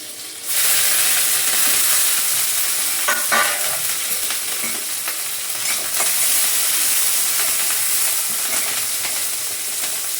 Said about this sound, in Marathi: आता हे लसूण मिरची चांगलं छान परतलं आहे.